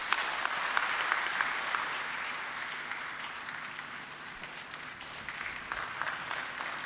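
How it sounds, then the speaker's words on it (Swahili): An audience at a state event for South African President Cyril Ramaphosa's visit to Tanzania bursts into sustained applause. The clapping is steady and fairly distant, and it fades slightly before picking up again. "Naomba tupige makofi mengi"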